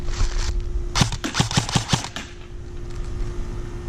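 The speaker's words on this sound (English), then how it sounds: "So now we're actually going to shoot something." Gunshots fired at a target on an outdoor shooting range, a quick string of about six evenly spaced sharp cracks in under a second, loud and close, framed by steady background noise and no talking.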